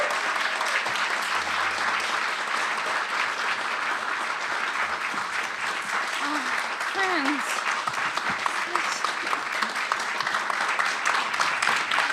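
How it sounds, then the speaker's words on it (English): A dense, sustained round of applause from an audience at an honorary award ceremony, steady and loud for the whole stretch, with faint voices and a few cheers mixed in. "please join me in a hearty round of applause for the Gomes honoree, Kerry Maloney"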